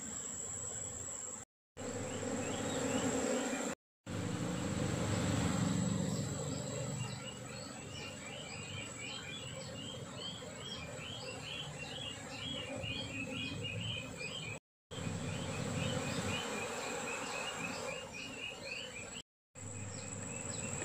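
A dense, steady insect drone of Asian honey bees buzzing fills the air, with faint bird chirps scattered on top and a few brief dropouts.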